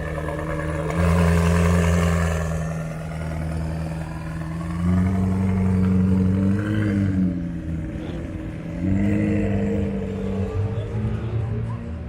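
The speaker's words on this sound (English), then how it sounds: "You can hear that downspool for days." A turbocharged car engine revs repeatedly at an open house event, rising and falling in pitch across several pulls, with the turbo spooling down between revs, loud and fairly near with light background noise.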